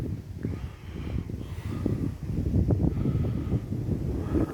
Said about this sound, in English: Turn your volume down, or it's all you're going to hear is wind